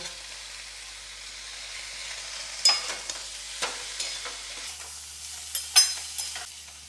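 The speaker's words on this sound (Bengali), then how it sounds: "পেঁয়াজকলি দিয়ে একটু নেড়ে মটরশুঁটি দেব" Onion greens and green peas are stir-fried in a pan, giving a faint background sizzle with several soft scraping stirs of a spatula at irregular intervals.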